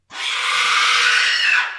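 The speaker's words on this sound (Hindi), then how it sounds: "पूरे जंगल में एक डरावनी चीख गूंज उठी" A single eerie, drawn-out scream rings through a forest, starting abruptly and holding loud and shrill for over a second before trailing off.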